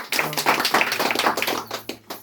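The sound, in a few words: audience applause for the speaker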